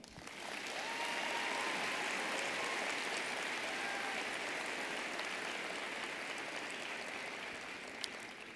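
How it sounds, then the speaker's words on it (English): A large audience claps at a spring 2018 commencement ceremony of the UIC Jane Addams College of Social Work. The applause is a dense, sustained wash heard from a distance that stays steady for several seconds and then eases slightly. "You may now applaud."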